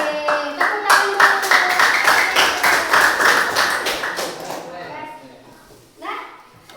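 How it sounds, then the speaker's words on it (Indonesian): A class claps hands in a rhythmic, patterned clap, loud and fairly close, with voices chanting along and a few more claps after a pause near the end. "Oke, tepuk tangan dulu."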